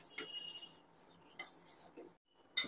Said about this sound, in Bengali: এটা মিশিয়ে দিয়ে আমাকে কিন্তু ভালো করে নাড়তে হবে আরো 5 থেকে 7 মিনিট